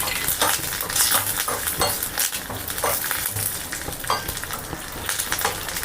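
Curry leaves, methi seeds and spices sizzle and crackle in hot oil in a pan while a utensil stirs and clinks against the metal, a loud, dense frying sound with no talking.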